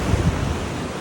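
Sea waves wash onto the shore while wind blows across the microphone, a brief steady rushing roar with a couple of soft low thumps.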